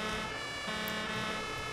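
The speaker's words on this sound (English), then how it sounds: "we'll put the blue lights on, we'll go for the siren" Fire engine siren in a firefighting simulation game, a steady continuous wail held at moderate level throughout with no voices over it.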